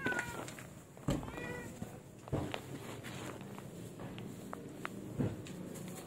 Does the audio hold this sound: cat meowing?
yes